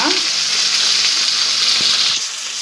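Garlic cloves, curry leaves and a small piece of ginger fry in hot oil for a tomato peanut chutney, giving a loud, steady close-up sizzle that eases slightly near the end.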